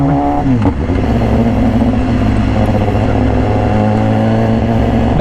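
Loud, steady engine drone of a 2018 BMW S1000RR in Racing Red fitted with an Austin Racing exhaust, revving on a test ride, the note shifting as it accelerates, with wind and road clatter throughout.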